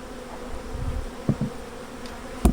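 Honey bees hum steadily around a hive box holding drawn comb and honey, a low continuous drone with a few louder thumps and knocks close by, no voices.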